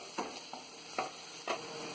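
Cauliflower sautéing with salt and chili flakes, a soft sizzle under four distinct spatula scrapes spaced evenly across a short moment.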